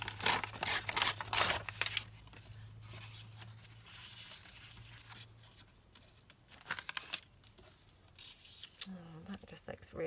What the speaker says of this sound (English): Let's just tear this one out.